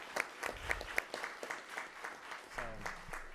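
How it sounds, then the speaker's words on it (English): Sparse round of applause at a school board meeting, a small group clapping in scattered, distinct claps at moderate distance, with a voice entering near the end. "I think we need to give him a round of applause"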